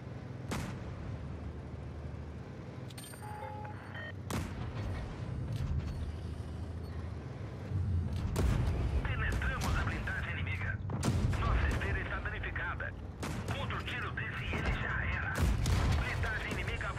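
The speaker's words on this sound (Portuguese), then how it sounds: "Tomando tiro lá do outro lado." Gunfire and heavy cannon shots boom out in a tank battle video game, with scattered sharp blasts and bursts spread through the scene and a player talking throughout.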